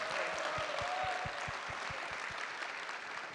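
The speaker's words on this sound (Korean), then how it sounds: "와주신 명진 씨에게 다시 한번 힘찬 박수 부탁드리겠습니다" An audience at a youth talk event in Gwangju applauds a guest, a dense, steady wash of clapping with a few low thumps mixed in.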